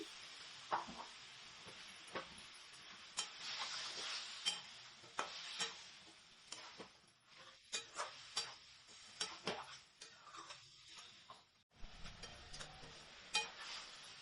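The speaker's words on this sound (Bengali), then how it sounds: "এবারে ম্যারিনেট করা চিকেনগুলো আমি দিয়ে দিচ্ছি।" Marinated chicken for a Bengali-style curry fries in a pan, a quiet sizzle under repeated spatula scrapes and taps in an uneven rhythm, fairly faint and close, with no voices.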